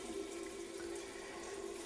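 Tap water runs steadily into a basin to bathe a pet ferret, a continuous close splashing stream with no talk over it.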